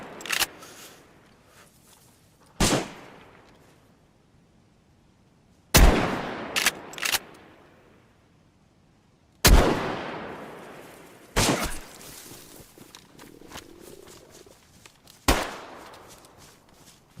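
Gunfire in a video game: sharp, loud single shots and short bursts spaced irregularly, each cracking out with a quick decaying tail, with quiet gaps between them.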